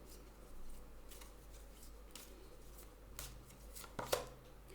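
Oracle cards from a language-of-colors deck being shuffled, soft intermittent riffling flicks and slides at low level, with a sharper snap near the end, no voices.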